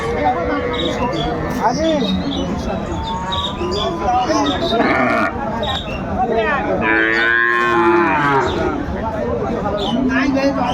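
Cows and a calf at Aftabganj cattle market in Bangladesh, with several loud moos rising over a busy crowd murmur and nearby voices talking throughout.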